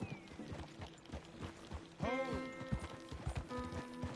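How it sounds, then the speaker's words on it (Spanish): A horse gallops with rhythmic clip-clop hoofbeats in the video game Red Dead Redemption 2, steady and close, with a brief whinny in the middle and faint game ambience behind. "voy apretando el X para que el caballo cabalgue más rápido"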